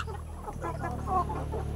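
Hen clucking among gamefowl kept on a farm, a soft, close, intermittent series of low clucks over a steady background hum, with no voices.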